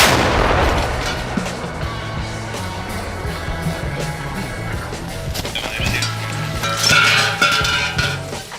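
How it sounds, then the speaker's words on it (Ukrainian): A heavy artillery boom opens, followed by rumbling reverberation and metallic clanks, with a second loud blast rolling in near the end. "Нормально постріл!"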